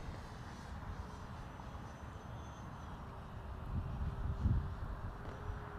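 An E-flite Air Tractor 1.5m RC model airplane flies overhead with a faint, steady electric motor drone and a thin whine, growing slightly louder midway, over outdoor wind noise.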